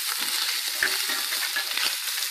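Food browning in a pan over a fire for bubble and squeak, a steady close sizzle and crackle of frying with faint stirring scrapes, no voices.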